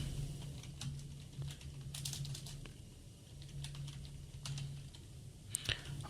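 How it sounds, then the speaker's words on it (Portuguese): Rapid, irregular keystrokes on a computer keyboard clatter close by in short bursts with brief pauses, with no talking over them. "Digitando."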